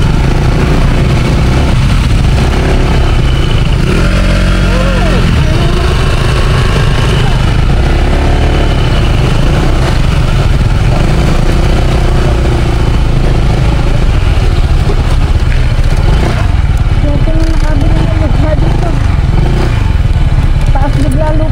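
A Honda ADV160 scooter engine idling loud and close on a steep dirt trail up to a campsite, a steady low rumble with occasional revs while riders talk over it.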